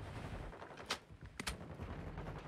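Shotgun blasts in a shooter video game, a few sharp separate reports over a constant low rumble of background game noise, moderately quiet, with no talking.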